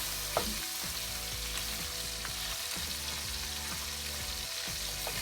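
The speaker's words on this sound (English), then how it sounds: "So I try to brown as much as I can on every side" Beef short ribs brown in a hot pan with a steady, close sizzle that holds throughout, marked by an early soft clink and a few faint stirring shifts, with no voices.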